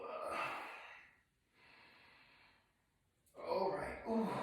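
Slow, deep breaths drawn in and let out during a yoga session, a long breathy exhale, a softer sustained breath, then another strong breath, close and fairly quiet.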